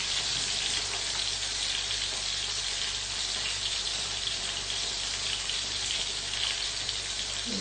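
Tomato pieces drop into a pan of eggplant omelette (tortang talong) frying in oil, raising a steady, dense sizzle that stays close and even throughout, with no talking.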